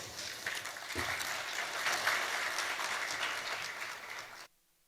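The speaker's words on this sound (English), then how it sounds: "One round of applause for him." Audience applause at an ICAO air services negotiation meeting, a sustained crowd of clapping hands at moderate volume that swells, holds for about four seconds, then cuts off abruptly into near silence.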